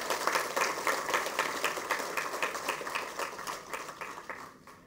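An audience at an event with the Labour Minister gives sustained, dense applause, steady rhythmic clapping from many hands that continues throughout at an even level before tapering slightly at the close.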